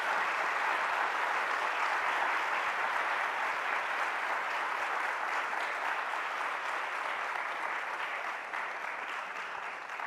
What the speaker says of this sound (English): Let's give all of our speakers today a huge round of applause.